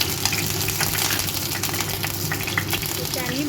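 A paste of whole onion, four garlic cloves and half an inch of ginger sizzles in a hot wok, making a loud, close, steady frying hiss that runs without a break.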